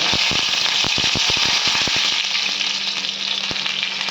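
Curry leaves crackle and spit in hot oil for an Ambur chicken fry, a loud continuous sizzle with a burst of sharp pops early on that thin out to occasional snaps, no voices.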